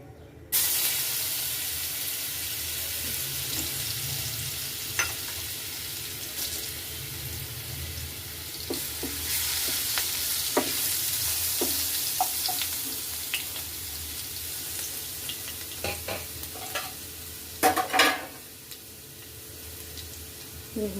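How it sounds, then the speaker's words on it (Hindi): Garlic and green chilli paste frying in hot oil in a pan, a steady broad sizzle hissing throughout with a few scattered clinks and sharp pops. "यहीं पर मैं लहसुन और हरी मिर्च का पेस्ट इसमें डालेंगे"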